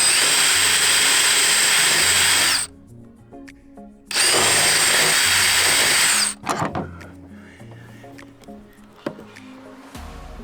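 A 1/4 bit drilling into a BMW E90 interior door part: two loud, close bursts of high whining power drill, each about two seconds, followed by quieter clicks and handling noises.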